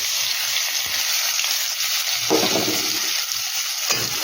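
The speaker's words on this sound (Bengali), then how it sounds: "পেঁয়াজটাকে একটু ভাজা ভাজা করে নেবো আমি" Onions frying in oil in a kadai after a black cumin tempering, giving a steady, loud hiss throughout with a brief burst of stirring or spatter in the middle.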